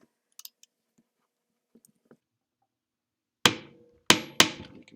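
Bearing being pulled from the armature in a DeWalt 625 router housing with a wrench: a few faint light clicks, then three loud sharp cracking snaps close by near the end as the part breaks free.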